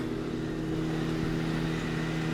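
A Mazda RX-7 FB rotary engine idling just after a cold start, a steady, loud, even drone with a constant low hum throughout and no voices.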